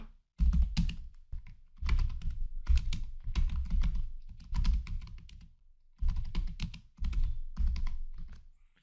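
Someone types C code on a computer keyboard in close, clattering bursts of keystrokes separated by short pauses, with no voice.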